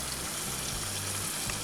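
Battered chicken fries in a hot skillet with a steady, close sizzle and crackle that stays even throughout.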